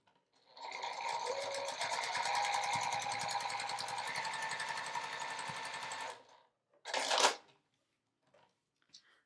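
Sewing machine quilting through fabric and batting for coasters, one steady run of fast stitching lasting about five seconds, followed by a short, sharper mechanical burst and then quiet.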